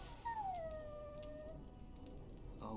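A dog whines in the Dragon Age: Origins video game: one long, falling, high-pitched whimper, faint and close, over low ambient game noise.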